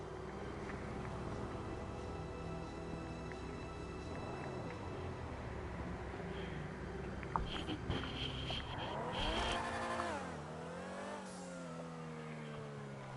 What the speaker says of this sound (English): So you hear the sound of the motor in this car?